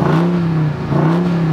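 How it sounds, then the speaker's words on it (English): A Dodge Ram TRX's supercharged Hellcat V8 runs loud and close, a steady deep engine drone with a brief dip before it swells again, with no talking over it. "There's nothing quite like a Hellcat V8 engine with supercharger."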